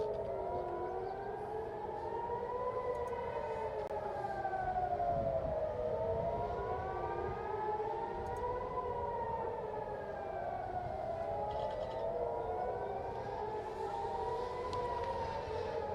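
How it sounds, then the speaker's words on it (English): Air raid warning sirens in Tel Aviv wail continuously with slow overlapping rising and falling tones, steady and loud throughout, no voices. "You could hear the sirens."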